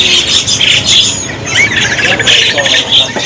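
A Rio starling (jalak Rio) kept for sale gives a series of loud, close squawking calls and chirps in bursts, with a few brief pauses between phrases.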